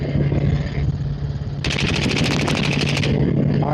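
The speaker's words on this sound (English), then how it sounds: "we got 2 more mags to shoot" Rifles fire at an outdoor shooting range in a fast rapid burst of many sharp, loud cracks, steady and close, over a constant low engine hum.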